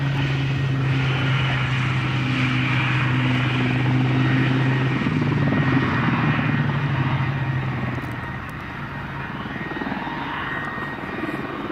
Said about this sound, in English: a rare sight in the skies above Farnborough, a replica of the First World War bomber, the Vickers Vimy